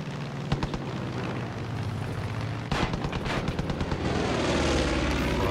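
A fighter jet roars by in Far Cry 5, a loud, continuous rushing engine noise with sharp booming bursts near the start and in the middle, building toward the end.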